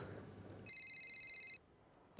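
Phone ringing in the F1 23 racing game, a single short electronic trill with rapid pulsing, clear and fairly close before cutting off.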